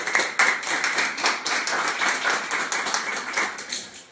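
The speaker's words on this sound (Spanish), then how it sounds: "vamos a darle un fuerte aplauso" An audience at a talk on sexuality during breast cancer applauds to welcome a speaker, a lively round of clapping that stays steady and then thins out toward the end.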